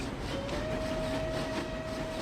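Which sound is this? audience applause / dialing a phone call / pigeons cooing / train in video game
train in video game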